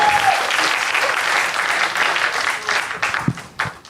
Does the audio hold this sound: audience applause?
yes